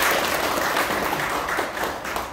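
Audience applause at the founding general assembly of an incorporated association, a dense, steady wash of clapping from a room full of people, fairly loud and continuous with no voices on top.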